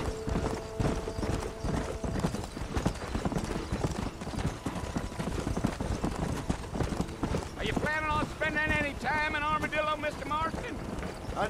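Horse hooves clip-clop at a steady gallop in the western video game Red Dead Redemption, loud and rhythmic under wind noise, with a brief horse whinny and in-game dialogue voices.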